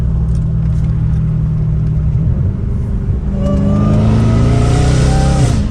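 A Dodge Hellcat Redeye engine drones low, then revs up hard, its exhaust rising into a loud, throaty roar close by, heard from inside the car with the back windows open.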